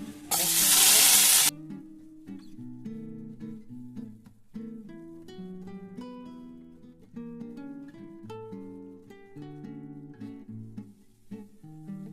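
Chopped green chillies hit hot oil in a pan while cauliflower dhoka chilli is being cooked. They give one loud, hissing burst of sizzling that lasts just over a second, then fade under steady background music.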